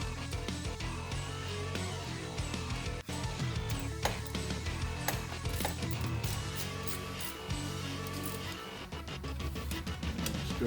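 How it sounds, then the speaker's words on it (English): Bolts on an Ezgo Navitas golf cart's AC motor being snugged with a ratchet, steady close clicking and mechanical rattling that runs continuously throughout. "we want to get the top bolt kind of snugged in a little bit first"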